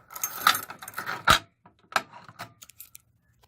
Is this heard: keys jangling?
yes